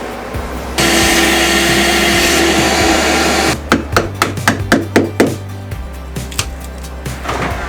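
Vacuum cleaner running inside a boat, a loud steady roar for a few seconds that then gives way to a rapid series of sharp knocks and clunks nearby.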